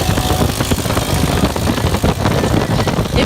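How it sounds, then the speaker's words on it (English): A motorcycle modified with a jet ski, its engine roaring steadily on the road, loud and close with a constant rough drone and no talk. "It's on a motorcycle jet ski, y'all."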